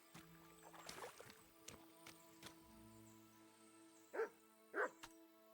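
A dog barks in the medieval role-playing game Kingdom Come Deliverance 2, giving two loud, separate yelps near the end after quieter game ambience, musical drones and faint clatter.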